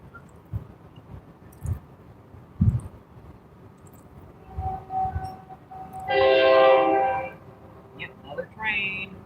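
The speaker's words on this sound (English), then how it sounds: "Yep, another train." A train sounds a loud, steady horn blast lasting over a second near a freshwater fishing spot, with a shorter horn note just after it, while people talk through the rest of the clip.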